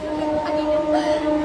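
A steady rumble and hum fill the cabin of a moving, nearly empty passenger train, with a faint tonal whine running through the whole stretch.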